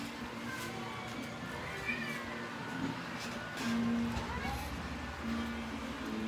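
Several cats meow indoors in a home, with repeated mid-pitched calls rising over a steady background hum and occasional faint voices.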